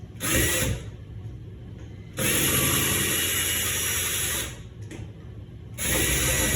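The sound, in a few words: power drill removing screws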